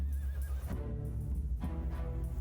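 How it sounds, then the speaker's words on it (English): Horses neigh and whinny in a cavalry battle in the strategy game Humankind, with shrill repeated calls over a dense, loud mix of hoofbeats and combat noise. No one talks. "Horses just pummeling their"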